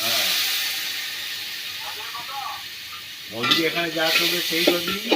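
Spiced chicken masala is stir-fried in a pot, giving a steady sizzling hiss with stirring scrapes; voices talk over the latter half.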